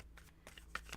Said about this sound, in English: I want to make sure I shuffle this really well